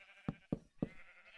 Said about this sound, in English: We've got a lot of sheep going on here.